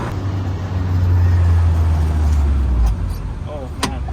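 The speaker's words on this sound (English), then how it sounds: "you hear the motor whine behind you" A Renault Sport Spider with no power steering cruises along, its rear-mounted motor giving a loud, steady drone and whine from close behind the cabin for about three seconds, then easing off, with a couple of faint knocks near the end.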